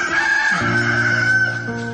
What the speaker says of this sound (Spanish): No había terminado Pedro de hablar cuando de inmediato el gallo cantó.